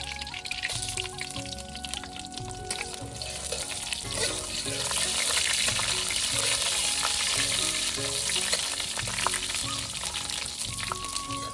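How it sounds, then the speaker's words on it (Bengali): Bay leaf, cinnamon, dried chilli and whole cumin hit hot oil for a country chicken curry, letting out a loud, continuous crackling sizzle that swells after a few seconds and stays steady, close up and without talk. "এখন ফোড়নের জন্য দিয়ে দেবো তেজপাতা, দারুচিনি, শুকনো মরিচ,"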